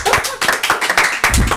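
A small group of people clapping their hands briefly, quick sharp claps in an uneven rhythm lasting just over a second, close and fairly loud.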